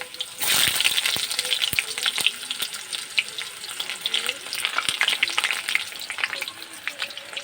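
Onions sizzle and crackle in hot oil in a kadai with bay leaves and dried red chillies, a steady loud frying hiss broken by sharp pops and stirring scrapes, with no voices.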